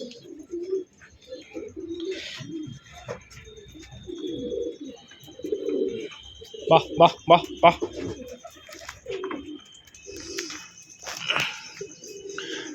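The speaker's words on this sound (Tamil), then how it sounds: "இதெல்லாம் மிக்சிங் புறா" Mixed-breed homer pigeons coo in a short rhythmic run of throaty calls, close by, while someone talks and calls to the birds throughout.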